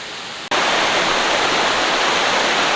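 A creek beside a narrow trail rushes loudly and steadily, a dense broadband wash of flowing water that starts abruptly and continues without a break.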